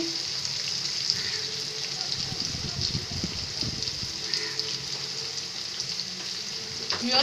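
Green chillies fry in a pan under a constant hiss of hot oil, with soft low rumbling and light movement sounds midway and a faint clink near the end.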